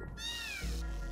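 A bomber cat enemy in The Swords of Ditto gives a single drawn-out, falling meow as a game sound effect, clear and close over a low rumbling game background.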